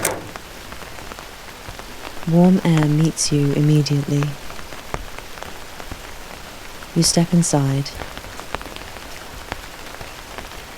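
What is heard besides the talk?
rain falling outside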